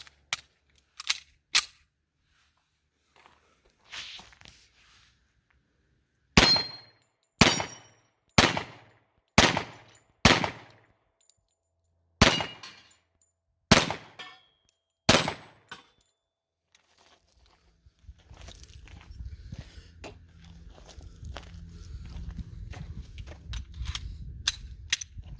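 A Sig P220 pistol in .45 ACP fires about a dozen sharp gunshots, loud and fairly close: a quick pair, a few scattered shots, then a rapid string of eight. A low rumbling noise follows.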